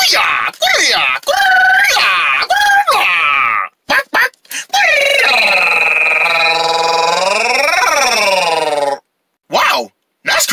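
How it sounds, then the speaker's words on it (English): A cartoon character lets out a long, loud, wavering karate scream, rising and falling in pitch with a few short shouted bursts before and after. "That's karate scream."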